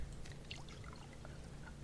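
Water being poured out for a chicken in the survival game Subsistence, a faint gurgling trickle with small splashy drips, short and continuous, with no voices.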